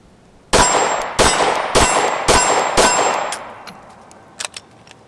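Glock 9mm pistol fired five times at a steady pace, each sharp report ringing out loud and close with a brief decaying tail, followed by a couple of faint clicks.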